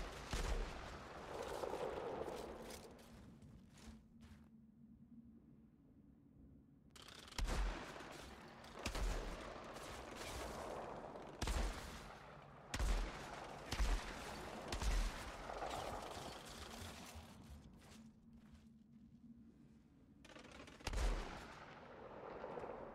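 Gunfire in the video game Outriders: repeated loud, booming shots and short bursts at irregular intervals over a dense, continuous game soundscape, with no voices.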